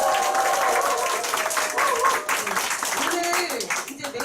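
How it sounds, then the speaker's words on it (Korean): Audience applause in a room at a morning group meeting, steady clapping filling the whole stretch with some voices mixed in over it. "다시 한번 또 박수 부탁드립니다."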